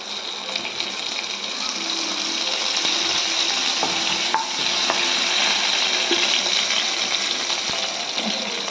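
Turmeric and curry leaves fry in a hot pan for a mushroom masala curry, giving a steady close sizzle with occasional stirring scrapes and clicks throughout, and no talking.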